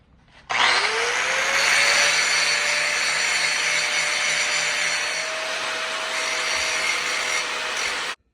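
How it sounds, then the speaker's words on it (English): A power grinder removes metal from Harley Knucklehead engine rocker pieces. It starts abruptly with a loud, harsh, continuous grinding whine that holds steady for about eight seconds before cutting off. "I've taken a grinder and really removed some material from both of these pieces"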